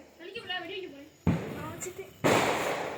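A Diwali flower pot firework (kalasam) is lit and erupts with sudden bursts of loud, sustained hissing sparks, under people talking excitedly nearby.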